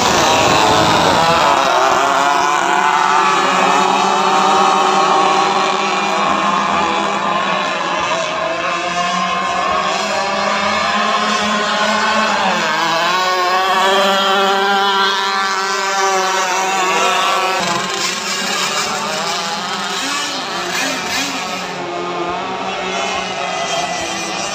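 Several RC tunnel racing boats powered by chainsaw-type engines scream continuously at high revs, pitches rising and falling as they race at a meet in Serian, Sarawak, Borneo, with a loud, unbroken whine throughout.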